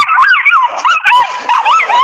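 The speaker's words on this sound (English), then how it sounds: "Oh, sorry, another dog around here." Dog yipping and whimpering in high, wavering bursts close by, continuous through the moment, outdoors near an estuary.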